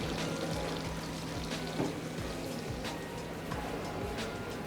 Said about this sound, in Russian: Переливаем его в нашу тарелку.